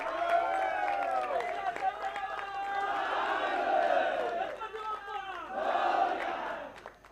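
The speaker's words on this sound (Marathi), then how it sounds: "जोरदार टाळ्या." A crowd at a tournament prize distribution in Shembavane cheers and shouts loudly, with a few claps, in sustained waves of many overlapping voices that rise and fall.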